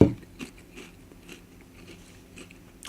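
Someone chews a crunchy cappuccino-flavoured snack up close, a few sharp crunches and then softer irregular munching in an otherwise quiet room.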